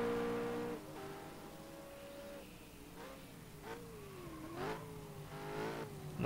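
Virtual BMW M3 race car from the PC game BMW M3 Challenge, its engine note dropping through downshifts and then climbing as it accelerates out of a corner, steady and fairly loud with no talk over it.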